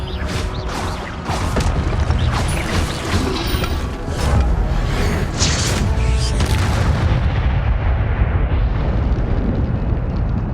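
Incendio fire spell cast during combat in the Hogwarts Legacy video game, a dense run of booming blasts and crashing impacts with whooshing bursts, loud and continuous throughout.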